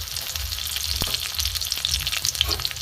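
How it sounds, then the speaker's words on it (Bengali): Chopped tomato and green chilli fry on a low flame in a spoonful of mustard oil, giving a steady, close hissing sizzle with a couple of faint knocks and no talking. "টমেটো কাঁচা লঙ্কাটা একটু ভেজে নিয়েছি"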